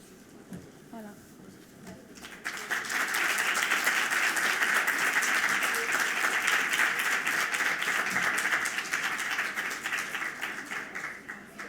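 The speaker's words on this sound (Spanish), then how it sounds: "Un fort aplaudiment." Audience at a chocolate, coffee and liquorice recipe session breaks into applause after a brief stretch of quiet voices, then sustains a loud, dense clapping for several seconds before it begins to thin out.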